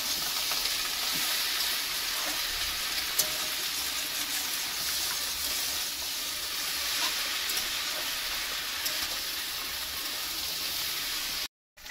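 Curry sizzles steadily in a hot pan while being stirred, a dense continuous frying hiss with occasional scrape and clink accents, close and loud throughout with no talking.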